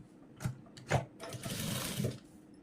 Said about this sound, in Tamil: பக்கத்தில் 2 தையல் ஓட்டிடலாம்.